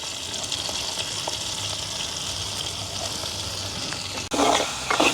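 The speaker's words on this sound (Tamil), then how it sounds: "இப்போ வந்து வெட்டி வச்சுருக்கிற வெங்காயம் அதோட வந்து கறிமிளகாயும் சேர்த்துக்கொள்ளுவோம்" Coconut oil sizzles steadily in a pan, then a loud, hissing surge erupts as chopped onions and curry chillies hit the hot oil, with a few stirring scrapes afterward.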